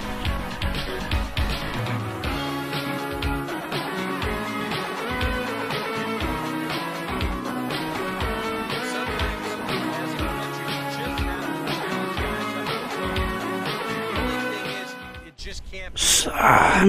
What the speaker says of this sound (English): Just hear this music. Can we just keep hearing it